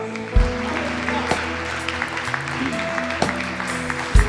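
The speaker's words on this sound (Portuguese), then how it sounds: "Você pode aplaudir ao Senhor." A church congregation applauding during a service, a continuous crowd clapping with a few sharp louder claps near the start and end, and some voices mixed in underneath.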